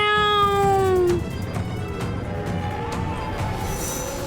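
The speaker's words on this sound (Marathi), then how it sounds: "म्याऊ. ए माझ्या बाळा." A pet cat gives a single drawn-out meow near the microphone, loud against a steady background hum, then the room settles into low ambient noise with no further calls.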